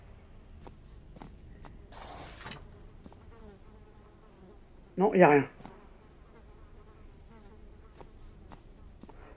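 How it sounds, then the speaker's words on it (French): Flies buzz intermittently inside a room, a faint hum with one louder close pass midway, against a quiet background with a short spoken remark. "Si on entend juste les mouches."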